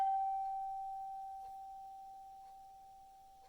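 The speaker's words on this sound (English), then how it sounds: "We ring the gong 3 times." A gong rung during a worship service gives one clear sustained ringing tone that slowly fades away, with a faint touch near the end and no other sound around it.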